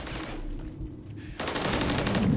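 Gunfire in the video game Modern Warfare 3, with loud, continuous automatic bursts that swell after a brief lull.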